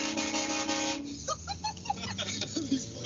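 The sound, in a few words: train horn fitted on a Scion car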